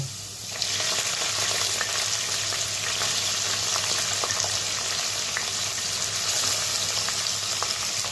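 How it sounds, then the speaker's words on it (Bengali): Potato pieces and taro frying together in oil, a steady loud sizzle starting just after the half-second mark, with light scrapes of stirring throughout and no voices. "তো আলুটা হালকা হালকা ভেজে নিয়েছি, তো এখন কচুগুলো ছেড়ে দেব।"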